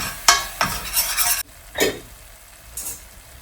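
Masala sautéing in a pan, with a few close, distinct spoon scrapes and stirs against a soft sizzle, followed by quieter pauses.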